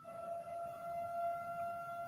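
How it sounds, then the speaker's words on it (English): A steady, wailing siren tone holds at a constant pitch in the distance, with faint background noise and no voices. "No, that's a siren."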